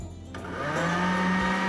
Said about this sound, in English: And we'll move this over to the blender.